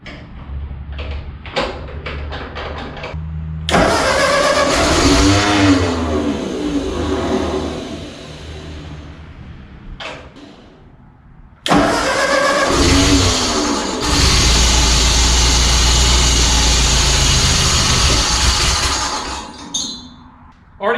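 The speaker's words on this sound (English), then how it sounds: "Alrighty guys, she runs" Old 1948 Ford engine cranking with rattling clicks, catching into a loud rough idle that stops, then starting again and running steadily close by before shutting off, with no talking.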